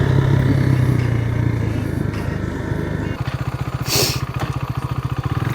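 A motorcycle ridden supermoto-style into corners, its engine droning close with shifting pitch, then settling into a rapid pulsing thump, with a brief higher whine partway through.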